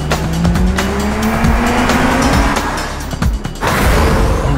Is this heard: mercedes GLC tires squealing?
yes